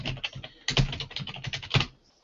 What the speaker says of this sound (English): I can type in my name here